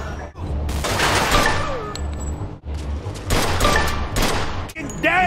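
Sustained gunfire in a shootout in the video game Mafia II, dense overlapping shots and bursts with short lulls, loud and close, with some faint voices mixed in.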